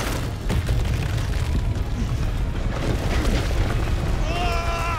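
A gunshot in the video game House of Ashes, heard as a few booming blasts over a rumbling game background, with a voice talking alongside.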